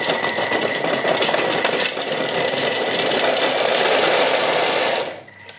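A home food processor whirs steadily for about five seconds, chopping beetroot for a salad, a loud even motor drone that winds down abruptly at the end.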